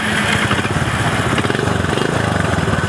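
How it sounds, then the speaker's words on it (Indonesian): A Honda C70 motorcycle engine runs at a steady, close, loud putter, with an even, fast rhythm throughout. "kita mau tunjukkan cara kasih nyalanya. Jadi itu bisa pakai starter tangan."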